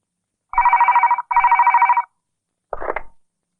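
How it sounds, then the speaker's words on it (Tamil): A telephone rings in two long, buzzing bursts followed by a shorter third ring, loud and close with silence between them. "யாரு கணேஷா காலங்காத்தால போன் பண்றீங்க"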